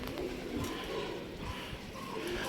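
A pigeon coos softly and steadily against low background noise, the low murmuring calls repeating through the moment without speech.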